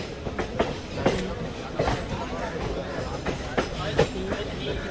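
The Pinakini SF Express rolls toward Chennai Central, its wheels beating a steady clickety-clack rhythm over rail joints beneath a constant rumble, heard from on board with a voice talking over it.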